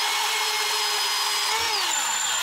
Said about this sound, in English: So let's go ahead and get out either a hacksaw, or I have a electric bandsaw